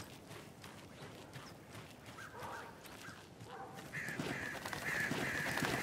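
Crows caw in the video game Alan Wake 2 near Cauldron Lake. Faint, scattered calls sit over a soft ambient bed and swell toward the end, with no voices.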